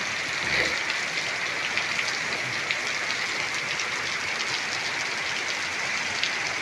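Torrential rain pours down in Sylhet, a steady dense hiss of heavy downpour with constant drumming on surfaces, broadband and unbroken throughout, with no talking.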